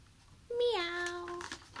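A single drawn-out meow made by a human voice imitating a cat, clear and close.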